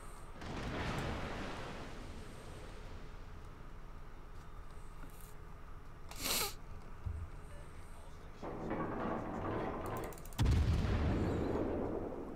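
Warship gun shells fire in World of Warships, the Venezia cruiser's turrets sending out heavy booming salvos over a steady rumbling background, with a few loud blasts spaced across the stretch.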